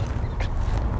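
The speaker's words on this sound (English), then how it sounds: "full of prairie dogs, if you can hear them behind me." A few short, nasal squeaking prairie dog calls ring out faintly in the distance over steady wind noise on open Wyoming prairie, spaced apart across a brief moment.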